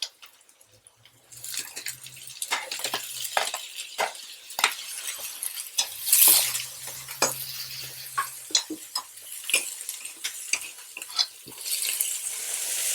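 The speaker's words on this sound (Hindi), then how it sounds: "बस हल्का सा सौटे होने पर ही हमें ये सब्जियां डाल देनी है इसमें।" Vegetables sautéing in a pan for bread poha, heard as soft sizzling with repeated stirring scrapes and light utensil clinks, fairly close and alone with no talk.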